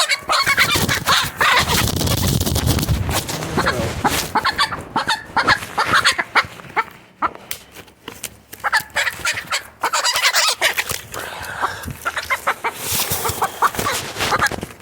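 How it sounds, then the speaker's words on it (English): Agitated chickens being caught in a cedar tree squawk and cluck loudly and close by, in frantic bursts with brief lulls between them. "Catching chickens in a cedar tree."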